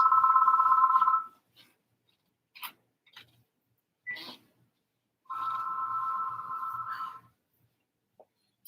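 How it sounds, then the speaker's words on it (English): A telephone rings in two long electronic bursts separated by a few seconds, loud and close, with scattered small knocks and clicks in between. "the phone is ringing"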